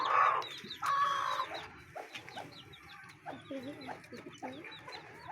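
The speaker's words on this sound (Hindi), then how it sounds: "वो वाला वाइट ये मुर्गों के नीचे आ गया।" Backyard chickens and roosters clucking close by among their chicks, a run of short, uneven calls with a few louder squawks near the start and brief voices mixed in.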